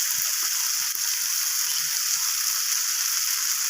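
Spices and about half a spoon of ginger sautéing in mustard oil for a mauroala fish chorchori, giving a steady, close sizzle that hisses evenly throughout with faint scraping underneath.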